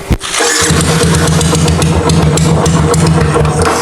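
An old motorcycle that has sat unused for a long time coughs to life and settles into a steady, loud idle close by, its engine putting out an even, pulsing beat.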